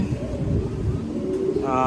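Pigeons coo in a loft where birds are recovering from a viral illness, a low steady murmur with someone speaking over it.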